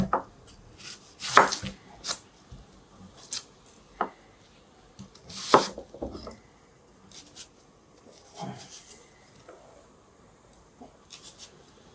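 A knife chops carrots on a board in a kitchen, a handful of sharp, irregular cutting knocks with quiet gaps and soft rubbing between them, close by and fairly faint, with no speech.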